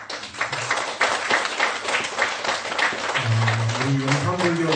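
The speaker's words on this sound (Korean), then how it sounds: "한번 일어나 보시죠. 큰 박수로." A Buddhist temple congregation applauds in a steady burst of many hands clapping, with a voice speaking over the clapping near the end.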